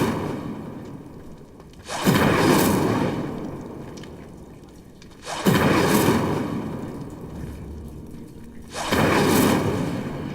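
Three Incendio fire spells whoosh out in Hogwarts Legacy, each a loud burst of flame about every three seconds that swells and then fades, with no talk over them.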